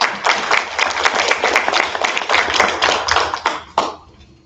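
Audience at a school board meeting applauds as an early childhood school principal is introduced, a dense burst of clapping that holds for several seconds and then drops away.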